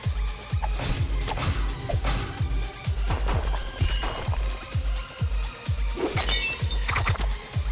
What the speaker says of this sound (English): Shards of glass. Really sharp shards of glass.